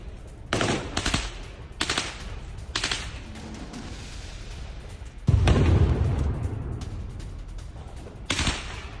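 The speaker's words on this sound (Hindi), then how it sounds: "गन फाइट की आवाज सुनाई पड़ रही है" Bursts of automatic gunfire crackle in several short volleys, with a deep booming blast midway and a low rumble continuing between shots, during a Ukrainian airstrike on a Russian military base.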